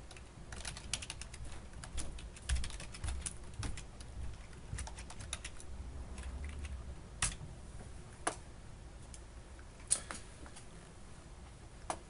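Steady typing on a computer keyboard, a long run of quiet, close key clicks with uneven rhythm and occasional louder taps, no talk.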